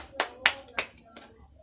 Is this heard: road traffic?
no